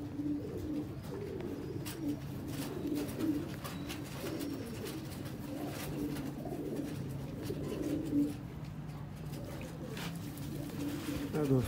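Pigeons cooing in repeated soft, low pulsing phrases, close by and continuous, with a voice talking over them and occasional light clicks and rustles.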